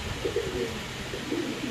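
A male Teddy pigeon coos in soft, low rolling phrases, two short bouts separated by a pause, close by against a steady background hum.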